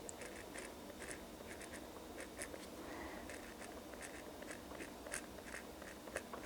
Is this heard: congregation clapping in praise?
no